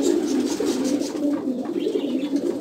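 Racing pigeons coo at their loft after a 266 km race, a steady low warbling chorus heard nearby and fairly loud.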